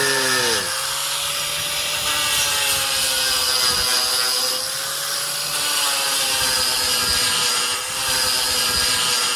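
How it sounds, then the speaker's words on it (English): An angle grinder grinds down a damaged boat hull before epoxy, a loud, steady high whine that runs continuously and rises and dips in pitch as the disc bites into the surface. "A grinder."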